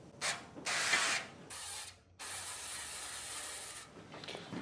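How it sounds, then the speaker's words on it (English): Avocado oil cooking spray hisses onto a baking dish in a few loud bursts of several seconds each, with a short pause between sprays and a faint clicking of the nozzle. "I'm going to use avocado spray"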